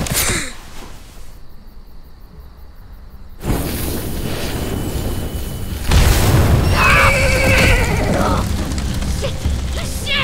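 A horse whinnies in The Walking Dead: The Final Season game, a loud neigh rising among booming, explosive effects and shifting background sound, with no one talking over it.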